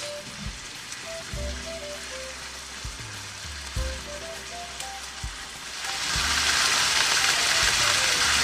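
Meat searing in a pot for pot roast: a steady sizzle that swells noticeably louder toward the end, with a repeating musical tone pattern playing over it.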